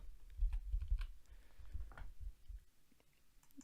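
Fast typing on a computer keyboard gives a quick flurry of soft clicks and thumps that is busy at first and then thins out, close by and fairly quiet.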